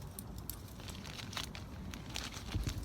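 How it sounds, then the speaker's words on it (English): Green plastic garden fencing is handled close by, giving a continuous soft rustle and crinkle with scattered sharper crackles, faint and steady throughout. "Gonna hear a lot of rustling."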